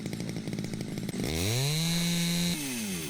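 A chainsaw in the construction game House Builder 2, a short choppy idle that revs up into a loud, steady high-pitched whine and then drops back slightly, heard alone and close.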